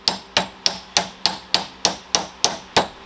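Rubber mallet tapping a mid shaft bearing onto the driveshaft of a 2003–2010 Saab 93, eleven evenly spaced sharp knocks close by, with no talking.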